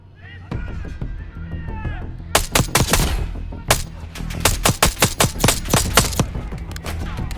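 Rapid gunfire bursts and single shots crack loudly in a Call of Duty Black Ops 6 match, dense volleys overlapping with short pauses, while game voices speak at the start.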